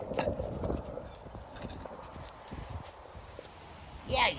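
Horse hooves clip-clop at a walk on a windy day around farm gates, a steady run of close hoof strikes with gusting wind noise, a brief whinny-like sound near the end, and light talk in the background.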